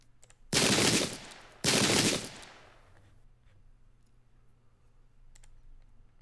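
Two heavy cannon blasts from a Pike and Shot English Civil War battle game, each a loud broad burst about a second long, the second following closely, then a fading low rumble and quiet background.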